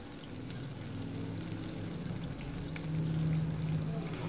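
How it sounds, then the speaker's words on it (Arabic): Onion and unpeeled garlic cloves frying in a pan, giving a steady, fairly quiet sizzle and crackle that swells slightly toward the end. "ومن بعد غادي نوضعوا شويه ديال البصله والضريس ديال الثومه"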